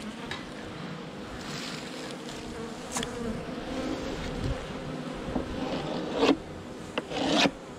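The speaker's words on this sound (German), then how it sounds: "So sieht es aus, wenn die Bienen euch angreifen." Dense, steady hum of honeybees swarming around an opened hive during a spring inspection, with a constant drone and a few sharper scraping knocks near the end.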